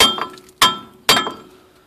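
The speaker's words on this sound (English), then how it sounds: "will need hammer and chisel. You will be pounding on this, the wheel hub itself." Sharp metallic strikes of a hammer driving a chisel against the wheel hub of a 2005 Ford Explorer, three loud ringing blows spaced about half a second apart, heard alone.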